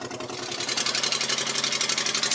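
Migrant boat's outboard engine running at night, a steady close mechanical drone with rapid rhythmic pulsing, alone without voices.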